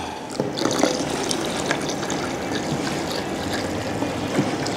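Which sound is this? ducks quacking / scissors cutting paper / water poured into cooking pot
water poured into cooking pot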